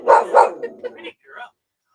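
A dog barks twice in quick succession at close range, followed by a few softer yips and whimpers, with people talking nearby.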